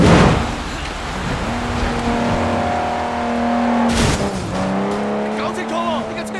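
Car hijack in the Sleeping Dogs video game: a car engine revs with rising gear tones while tires squeal and skid, loud and continuous, with a sharp bump partway through.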